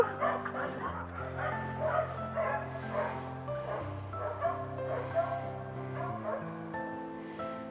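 A small dog barks in short, repeated yips through a castle hall with wooden panelling, the barks moderately close over a constant droning background.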